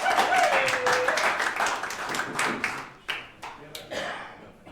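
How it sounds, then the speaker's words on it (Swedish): A small audience at the Swedish coffee championship gives warm applause that starts strong, thins out and trails off into a few scattered claps, with a voice speaking over the start. "Varm applåd, Lakis!"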